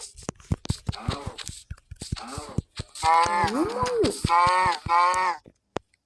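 A Minecraft cow moos loudly a few times, long low drawn-out calls, after a stretch of quick clicking and tapping sounds.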